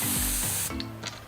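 A refilled, reused spray paint can sprays in a loud, steady hissing burst for about half a second, then stops, leaving a few faint clicks and handling noises.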